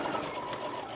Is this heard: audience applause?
no